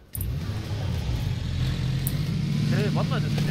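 A vehicle engine in PlayerUnknown's Battlegrounds drones loudly and steadily throughout, with a low rumbling tone that rises slightly, while players talk over it.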